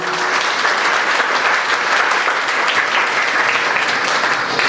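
An audience claps for a children's performance at an Arya Veerangana girls' camp in Vashi, steady sustained applause from a large crowd that holds evenly for the whole stretch.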